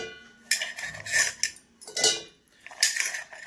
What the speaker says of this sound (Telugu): ఇప్పుడు ఒక మిక్సీ జార్ తీసుకొని మనం మిక్సీ జార్లో వేసేసుకుందాం